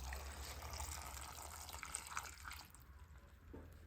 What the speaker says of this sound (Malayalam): ഇത് വേവാൻ വേണ്ടിയിട്ട് കുറച്ച് വെള്ളം ഒഴിച്ചു കൊടുക്കാം.